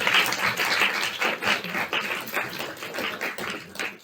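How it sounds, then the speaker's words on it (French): Dense, steady applause from an audience at a public meeting on citizen participation, filling the whole stretch at an even, fairly loud level with no clear voice on top. "On peut applaudir, je pense"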